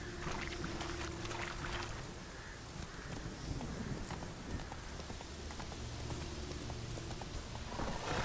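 Hooves of the horse Roach in The Witcher video game, a muffled repeating clip-clop under a steady wash of rain-like ambient noise, fairly faint throughout.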